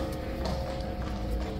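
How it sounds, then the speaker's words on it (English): A horse's hooves clop steadily on hard ground beneath a dense, noisy outdoor background, moderately close with a continuous even rhythm. "Well, look, the horse is super enthusiastic."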